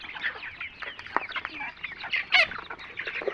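Chickens clucking at a farm, several birds calling in quick irregular bursts, close by and moderately loud with no talk.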